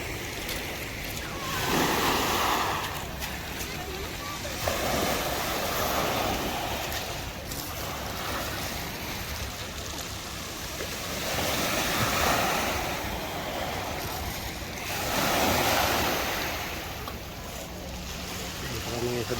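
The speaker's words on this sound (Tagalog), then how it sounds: "Kami sa dagat." Sea waves roll and break along a wide summer beach at Nice, a continuous surging wash swelling every few seconds, with wind buffeting the microphone and people talking faintly.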